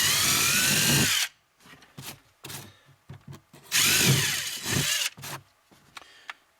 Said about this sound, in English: take a drill and gently drill that out